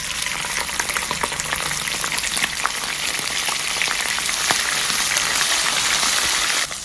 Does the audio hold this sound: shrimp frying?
yes